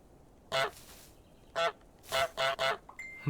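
Two geese in Untitled Goose Game give five loud, nasal, separate honks over about three seconds, the last three close together, with quiet game ambience between them.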